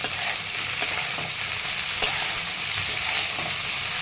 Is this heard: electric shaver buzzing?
no